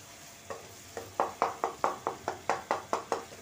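Tomatoes and masala fry in oil in a kadhai for moong dal, a spoon scraping in about a dozen quick, steady strokes over a soft sizzle, close and fairly quiet.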